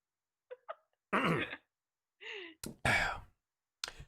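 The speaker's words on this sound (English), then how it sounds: "clear my throat, take deep breath" Someone clears their throat with a few short rasps, then draws in a deep, audible breath and exhales, close and quiet between sounds.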